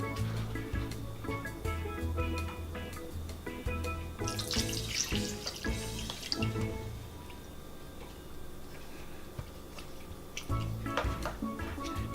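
Squeezed ube water poured into a cooking pot for kutsinta, a continuous close splashing flow with small ticks and clinks from the pot, louder in the middle and steady throughout.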